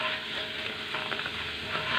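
Food frying in hot oil in a kadai as the pieces are turned over and over until evenly reddish-brown, giving a steady, close hiss with faint stirring scrapes throughout, no voices.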